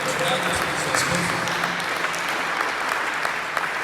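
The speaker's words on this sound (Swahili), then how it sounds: "Mpigie Yesu makofi kwa ajili ya mchungaji askofu." A church congregation at a prayer conference in Nairobi claps loudly and continuously, with a voice speaking faintly over the applause.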